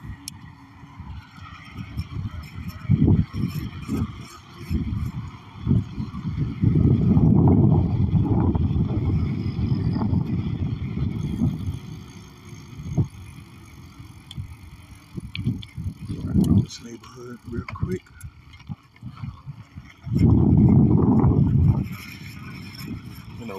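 Electric mountain bike riding on a paved road, with tyre rumble and wind surges that swell and fade in several bursts, loudest for a few seconds at a time, no talking.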